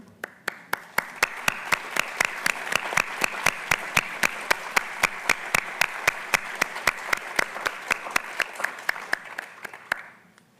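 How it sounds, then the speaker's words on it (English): Audience applause at a college awards presentation, a steady wash of many hands with sharp individual claps standing out, sustained for about ten seconds before trailing off at the end. "Let's applaud them again as they come off stage."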